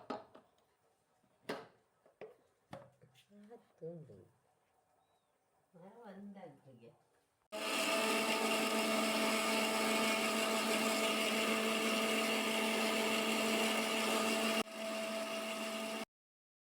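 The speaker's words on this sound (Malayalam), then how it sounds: "കുറച്ച് പാലൊഴിച്ച് ബിസ്ക്കറ്റിനെയും പാലിനെയും ഒരുമിച്ചിട്ട് മിക്സ് ചെയ്യാം" An electric mixie jar loudly blends Oreo biscuits with milk for an Oreo milkshake, a steady roaring whir that holds for about seven seconds, dips briefly, then stops abruptly. Earlier, brief taps and clatter come before it, with a little talking.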